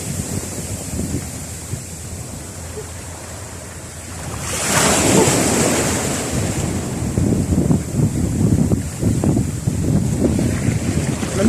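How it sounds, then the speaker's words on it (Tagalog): Strong sea waves crash and roll, building into a loud surge midway, with heavy wind buffeting the microphone throughout. "Medyo na malakas na naman yung alon eh."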